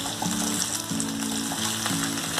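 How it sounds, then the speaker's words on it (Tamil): Red agathi flowers sauté in a pan with curry leaves, a continuous close sizzle with a steady hiss and faint stirring scrapes throughout. "அகத்திப்பூ போட்டதுக்கப்புறம் நல்லா வணக்கி விடுங்க"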